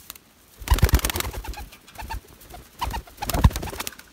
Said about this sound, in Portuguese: é uma pomba